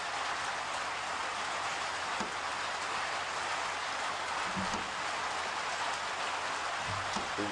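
Steady rain patters continuously on a morning safari drive in the African bush at sunrise, a dense even hiss with a few brief low knocks, and nobody speaking.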